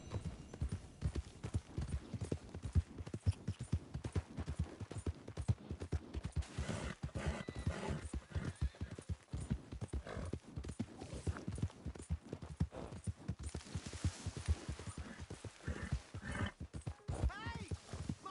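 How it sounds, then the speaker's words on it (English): Horse hooves clip-clop in a steady trotting rhythm across a hard surface, with an occasional whinny near the end. The sound is faint and distant, and people talk throughout. "Hey! My horse!"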